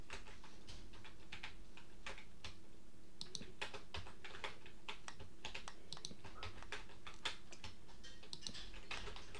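Computer keyboard keys clicking in quick irregular bursts during a Minecraft building session, close and clear over a steady low hum, with no talk.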